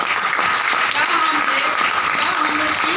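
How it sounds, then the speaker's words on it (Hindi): An audience at a business plan presentation breaks into loud, sustained applause, a dense roar of many clapping hands filling the whole moment at an even level. "क्या जोरदार ताली नहीं होनी चाहिए।"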